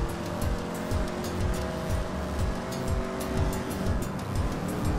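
A car drives in Grand Theft Auto V, its engine a continuous, fairly loud rumble with repeated surging bursts as it speeds along.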